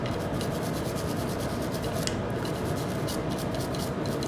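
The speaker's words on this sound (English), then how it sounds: "So for the extractor, you can use the smaller powder brush to get access." A small powder brush scrubs the extractor area of a Glock pistol slide, giving a steady, close dry rasping that runs without a break through the whole stretch, with no voices.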